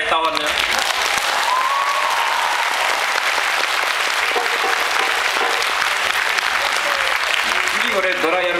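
An audience at a drum performance in Hanoi bursts into loud, dense applause that keeps going steadily, close and full, with a voice briefly calling out over the clapping near the start and end.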